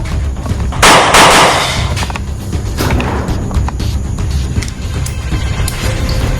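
Gunfire in a predawn raid on a drug syndicate, with several loud sharp bursts early on and scattered later cracks against a noisy outdoor background, and people shouting nearby.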